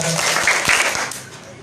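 An audience claps hands in time with a children's action song at an Isra Mi'raj religious lecture, a few quick rhythmic claps mixed into loud singing voices across a short stretch.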